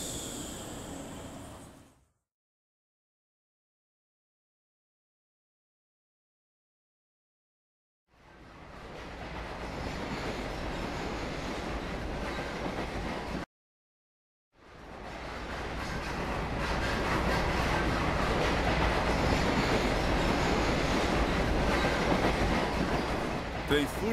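Train rolling on rails, a steady dense rumble with faint rhythmic clatter that cuts out twice, then returns loud and close for the rest of the stretch.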